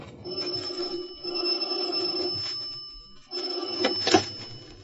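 An old telephone bell ringing as a radio drama sound effect, two long electric rings separated by a short pause, fairly close and with no talk.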